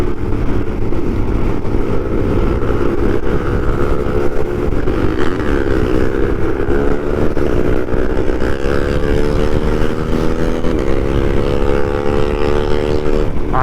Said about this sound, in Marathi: सगळ्यांकडे 155cc ची गाडी आहे आणि त्यांनी सायलेन्सर लावलं आहे आणि त्याच्यामध्ये ते आवाज करतात आहेत.